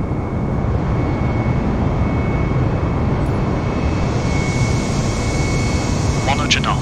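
Airbus A320 NEO jet engines at takeoff thrust in Microsoft Flight Simulator, a steady loud roar with a constant whine running unbroken throughout, with a voice speaking over it.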